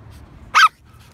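A small dog lets out a single loud, sharp bark close by, alone against a quiet outdoor background.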